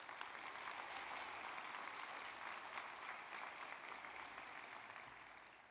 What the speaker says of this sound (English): Let's give another round of applause for Dr. Carnes.